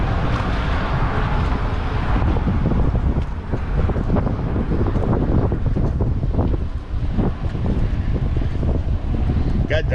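Steady wind roars across the microphone while riding a bicycle along a bike trail in the Lower Florida Keys between Summerland Key and Cudjoe Key, a continuous loud buffeting that persists for the whole stretch with brief dips.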